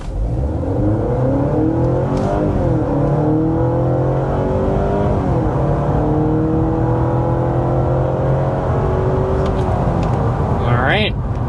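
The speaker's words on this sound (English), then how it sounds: "we need to go ahead and start with a hard acceleration" 2026 Honda Accord Touring hybrid under hard acceleration to 60 mph, its engine note rising steadily in pitch with a brief dip, loud and continuous from inside the cabin.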